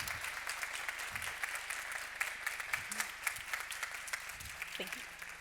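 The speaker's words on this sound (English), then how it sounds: "A warm applause." Applause from a conference audience welcoming a newly appointed Secretary General of an arbitration institute, a steady dense patter of many hands at moderate level, with brief low murmurs of voices beneath it.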